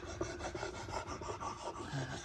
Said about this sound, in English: honing on the whetstone